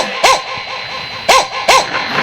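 A voice artist imitates dogs barking, giving three sharp yelping barks with rising and falling pitch, spaced about a second apart over a steady background hum.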